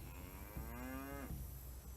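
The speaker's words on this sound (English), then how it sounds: "hear a cow" A single drawn-out cow moo from a video game rises and holds for under a second, clear and moderately close, over a soft, steady ambient background.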